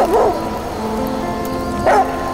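A dog barks twice in a video game, a short bark near the start and another about two seconds later, over a steady atmospheric ambient background.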